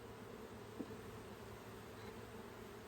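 Honeybees from a package settle into a new hive, giving a faint, steady buzzing drone throughout with one brief soft tap.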